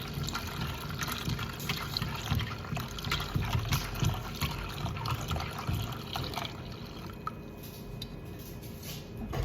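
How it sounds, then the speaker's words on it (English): Juice poured into a gelatin mixture in a home kitchen, a steady wet trickling and sloshing that runs close and continuous for several seconds with faint drips, no voices. "I put all the juice here."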